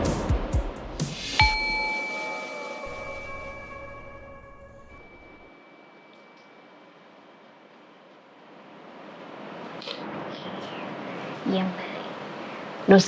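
A single struck bell rings out, its clear tone sustaining and slowly fading over several seconds, followed by soft rustling and faint movement.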